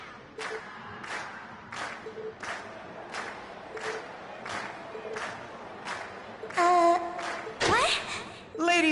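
A video game crowd in Trails of Cold Steel claps and cheers in rhythmic bursts roughly every second, swelling louder toward the end, with voices mixed in.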